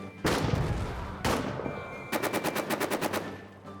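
Machine gun fire in the trench warfare video game All Quiet in the Trenches: two heavy blasts, then a rapid, evenly spaced burst of about ten loud shots, all close and without talk.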